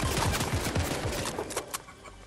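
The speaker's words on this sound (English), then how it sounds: "Are you already shooting at me?" Rapid gunfire in the Fortnite video game, a dense burst of repeated shots crackling close and loud at the start, then thinning into a few scattered shots as it fades.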